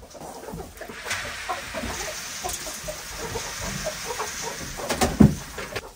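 Chickens clucking inside their coop on a homestead, a scattered run of soft clucks and short calls near and far, with a louder burst of clucking toward the end.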